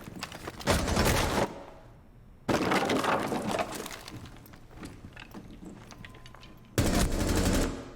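Bursts of rapid gunfire from a first-person shooter video game ring out loud and close, with two dense volleys separated by quieter stretches of softer game noise.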